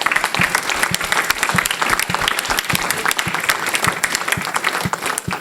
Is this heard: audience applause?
yes